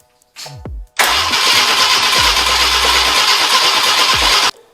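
An old Jeep CJ engine cranks briefly, then catches and roars to a loud, steady, rough idle for several seconds before cutting off abruptly; close by, no talk.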